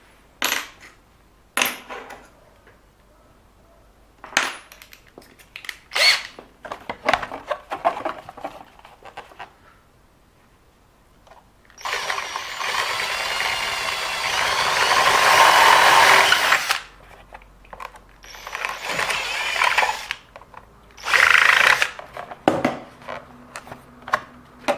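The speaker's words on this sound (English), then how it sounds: "as the plastic twisted, it pulled the drill bit in that direction" A drill bit bores into twisting plastic of a 1:10 RC car body, with short whirring bursts giving way to a long, loud, sustained grinding run and then further stop-start bursts with small clatters.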